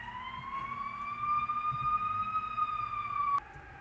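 A siren holds a steady wailing tone over low rumbling traffic, then cuts off abruptly near the end.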